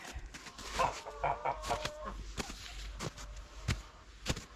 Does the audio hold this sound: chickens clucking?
yes